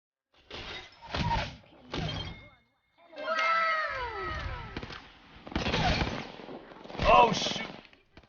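Video game gunfire arrives in several short bursts of sharp shots and impacts, mixed with game effects and someone talking excitedly over the action.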